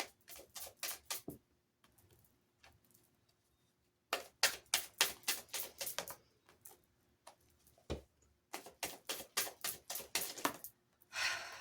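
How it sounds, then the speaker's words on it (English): Tarot cards are shuffled and pulled, giving rapid bursts of crisp riffling flicks in several rhythmic runs separated by quieter pauses with occasional single snaps, close to the microphone, with no speech. "We're going to pull some more tarot cards to see what the outcome of the situation is"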